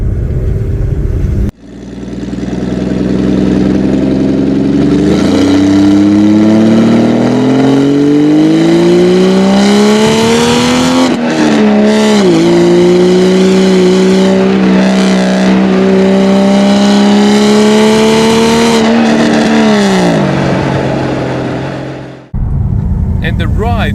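A Porsche 911 964 RWB fitted with an optional exhaust revs hard and loud, its engine note climbing steadily with a brief dip and recovery, then cutting off sharply after about twenty seconds.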